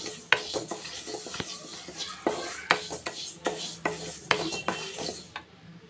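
Moong dal dry-roasts in a pan for sweet pongal, with a spoon scraping and clinking against the metal in irregular strokes over a faint rustle of grains, close up, then stopping abruptly.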